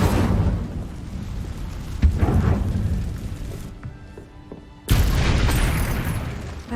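Incendio fire spell cast in the PS5 game Hogwarts Legacy, a loud whooshing burst with a low boom, then crackling roar that drops briefly to near quiet before another heavy fiery blast resumes.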